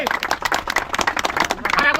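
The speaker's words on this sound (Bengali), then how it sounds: "ওনার জন্য একবার সবাই হাততালি দিন জোরে জোর সে" A crowd applauds a chief guest at a Bengali fishing-competition prize-giving ceremony, with dense, steady clapping from many hands, fairly close and loud, continuing throughout with faint voices mixed in.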